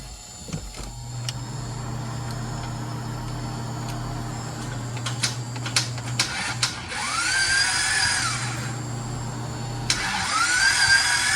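A Toyota MR2 cranks over on a newly fitted starter with a battery charger connected, giving a steady whirring drone broken by clicks and a couple of higher, louder motor surges near the end; no voices.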